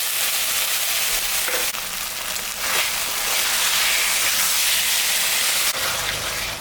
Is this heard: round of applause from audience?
no